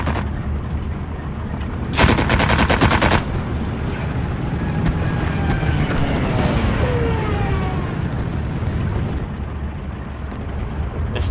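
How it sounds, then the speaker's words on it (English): Machine gun fire in the WWII strategy game Steel Division 2, a dense rapid burst of automatic rounds near the start, then heavy rumbling battle noise with scattered distant shots, loud and continuous. "More MG fire."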